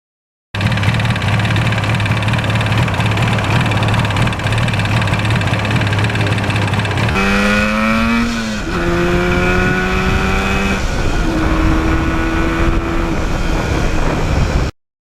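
A 1977 Yamaha RD400 two-stroke motorcycle being ridden, its engine droning loudly and steadily before revving up through successive gear changes, each shift dropping the pitch before it climbs again.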